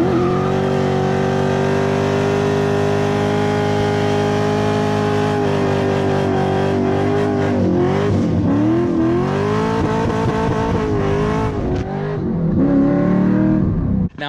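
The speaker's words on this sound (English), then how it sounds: "This is my 99 C5 Corvette." A 1999 C5 Corvette nitrous car idles loudly and close with a rough, lumpy rumble, then is revved in several sharp bursts toward the end.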